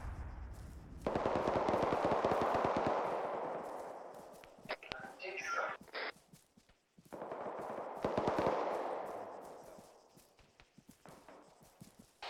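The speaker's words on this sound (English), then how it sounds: "we got fucking enemy fire fairly close southeast" Enemy gunfire rattles in a military team-training shooter game as rapid bursts of shots, fairly loud amid rushing wind-like noise, with people talking quietly over radio.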